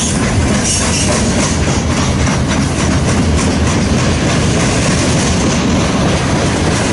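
A freight train rolls steadily past close by, Grand Trunk Western and Kansas City Southern boxcars rumbling with continuous wheel clatter and faint squeal, loud and unbroken for the whole stretch with no voices.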